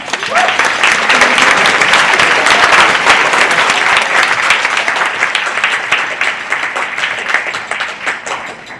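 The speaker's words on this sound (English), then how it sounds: "So give our guests a round of applause." Audience applause for guests at a live talk event on non-profit management, a dense, loud burst of many hands clapping that holds steady and then slowly thins toward the end.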